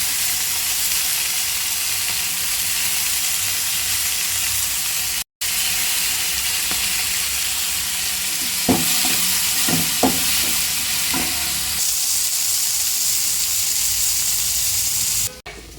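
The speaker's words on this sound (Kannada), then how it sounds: "ಶುಂಠಿ ಬೆಳ್ಳುಳ್ಳಿ ಪೇಸ್ಟ್ ಹಾಕೊಳ್ತಾ ಇದ್ದೀನಿ ಇದು ಚೆನ್ನಾಗಿ ಫ್ರೈ ಆಗಲಿ ಹಸಿ ವಾಸನೆ ಹೋಗೋವರೆಗೂ" Ginger garlic paste and chopped tomato fry in a pan for hotel-style dal fry, a steady loud sizzle running throughout, with a few sharp stirring scrapes in the middle and a brief cut partway.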